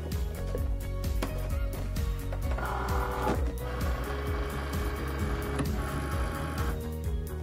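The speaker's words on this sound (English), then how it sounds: "Once the machine is done engraving, check to make sure your engraving looks good." A Cricut cutting machine engraves on its mat, its carriage motor whirring and buzzing in steady repeated passes with rhythmic ticking and brief higher-pitched motor tones, close and moderately loud, with no talking.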